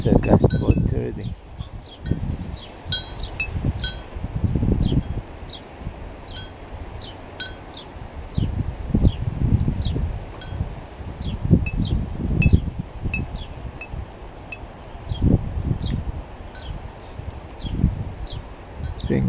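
Moderate gusting wind of about 21 km/h sweeps outdoors around a homemade wind generator, a steady low rumble that swells in gusts, mixed with rustling and light metallic clinks.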